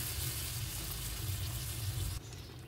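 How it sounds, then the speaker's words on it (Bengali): Water poured into a pan of sautéed cauliflower and egg curry, giving a steady loud sizzle and hiss that drops suddenly near the end, with no talking. "কষানো হয়ে গেলে আমি জল অ্যাড করে দিচ্ছি।"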